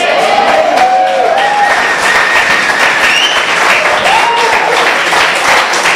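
Loud applause from a crowd at a church evangelization presentation in Mexico, continuous dense clapping with some shouts and cheers rising through it.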